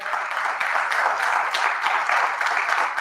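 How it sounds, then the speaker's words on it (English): A church congregation at Pleasant Hope Baptist Church gives a big round of applause, a dense, even wash of clapping that holds steady and alone for about three seconds. "Give Pleasant Hope a big round of applause"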